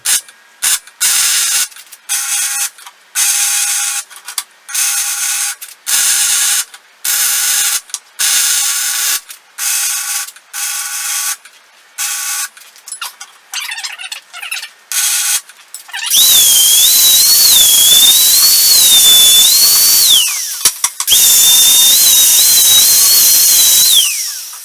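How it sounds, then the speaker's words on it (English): Structural steel is welded in a long series of short, harsh crackling bursts with brief pauses between them, followed by two longer, steady hissing runs that carry a wavering high whine. "I'll go ahead and weld this up"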